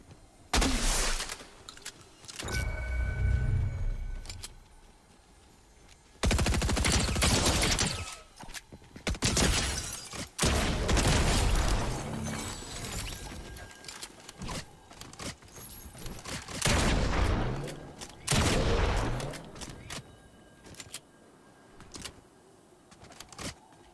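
Gunfire in the Fortnite video game: loud bursts of rapid shots in several clusters, including sniper rounds, separated by quieter stretches of game sound, with no talk over them.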